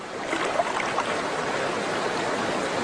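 A creek trickling over rocks in a river bed, a steady soft wash of running water heard close and unbroken, with no voices.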